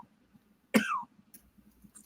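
A man in a cartoon scene gives one sharp, loud cough with a throaty rasp, alone against a quiet background with faint low rumble.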